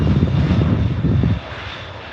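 A fixed-wing jet aircraft passes close and loud, a steady engine roar with air brake and spoilers deployed that drops off slightly toward the end, with no voices.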